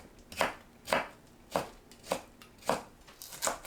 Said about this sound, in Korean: 오이를 채 썰어줍니다.